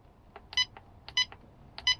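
A van furnace controller's display gives three short electronic beeps, evenly spaced and moderately close, over a quiet background hum.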